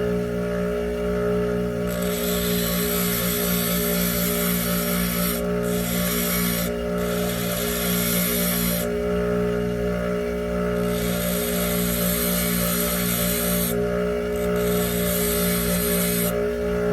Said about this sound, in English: It doesn't help when the grinder is walking away from me a little bit.